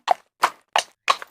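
Four evenly spaced hoof clops of a walking horse, crisp and close, sounding alone with silence between each beat.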